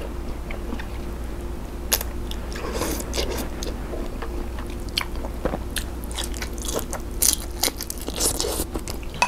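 Someone eats Thai papaya salad with small rice noodles and pla ra, producing close, wet chewing with scattered crunchy bites and soft scrapes against a steady low background hum, no talking.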